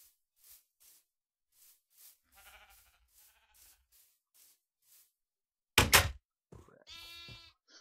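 Video game sheep bleats in a blocky farm world, a loud, wavering baa near the end following a sharp hissing burst, with sparse quiet clicks and footsteps scattered before it.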